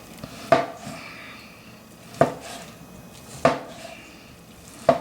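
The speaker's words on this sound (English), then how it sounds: "we chop it up with a chef knife." A chef knife chops cooked venison on a board in four sharp, evenly spaced thuds, close and distinct over a quiet kitchen background.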